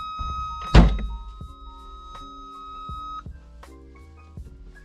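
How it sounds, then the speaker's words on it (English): A Ferrari 328's door swings shut with one solid, close thunk, followed by faint clicks and a steady electrical hum inside the parked car. "Just close the door."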